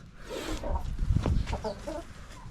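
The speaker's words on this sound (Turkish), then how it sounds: "Burada bir Kolombiyan horozumuz var." A Colombian rooster and hens cluck and murmur close by, a few soft calls overlapping in a farmyard.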